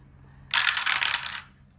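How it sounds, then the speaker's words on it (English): A pair of dice tumbles across a hard surface in a quick, clattering rattle lasting about a second, close and fairly soft in an otherwise quiet room. "this is a double dice, so let's see what we're gonna do"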